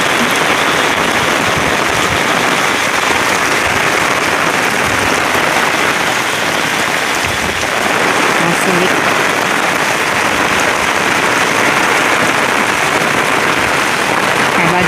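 Heavy monsoon rain pours steadily over a rural Gujarati farm where fields are flooding and cattle stand out in it: a loud, dense, unbroken hiss that stays constant throughout.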